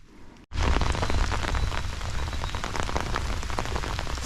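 After a brief quiet moment on an Appalachian Trail hike, rain abruptly begins pattering heavily on surfaces nearby during a thunderstorm, a dense continuous downpour.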